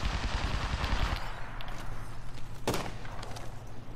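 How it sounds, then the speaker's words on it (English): Gunfire aimed at the player in Apex Legends: a dense burst of rapid shots at the start, then a single sharp crack near the end, over a steady low game backdrop. "we're taking shots from over somewhere over there"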